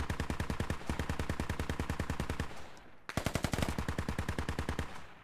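BTR armoured vehicle turret gunfire in Squad, with long rapid automatic bursts of evenly spaced heavy shots, loud and close, pausing briefly before a second sustained burst.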